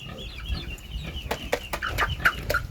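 Farm chickens clucking nearby in a run of short, repeated clucks and calls, fairly loud and close over a rough outdoor background.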